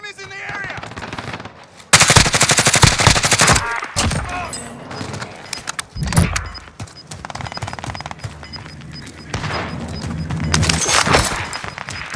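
Loud bursts of automatic gunfire in a Warzone battle royale match, with heavy rapid volleys near the start and again toward the end, plus scattered shots and game sounds between.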